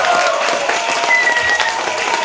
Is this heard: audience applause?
yes